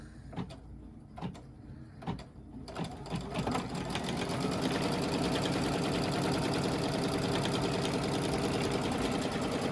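An embroidery sewing machine in a hoop setup stitches a line, the first few seconds bringing separate sharp needle clicks before the motor settles into a steady, loud, continuous mechanical whir with no talking.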